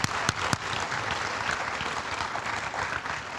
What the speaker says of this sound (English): could we have one more hand of applause for all of our Vogt Scholars?